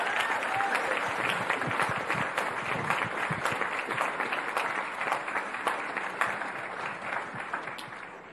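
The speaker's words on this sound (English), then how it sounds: "Let's give her a big round of applause." An audience applauds a student who won the design contest for a school handbook cover, sustained crowd clapping with a few sharp individual claps standing out, continuous and full for several seconds before tapering slightly.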